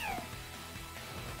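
A kitten Pokémon from Pokémon Sword lets out a short, high cry at the very start, brief and sliding downward, over a muffled background.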